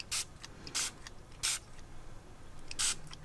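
Four short, sharp spray bursts from a can, evenly spaced, hissing close by against a faint background.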